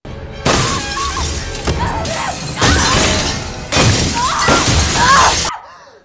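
Mirror glass bursts and shatters in a film after a gunshot, with several loud crashing bursts of breaking glass and tinkling shards over about five seconds before cutting off.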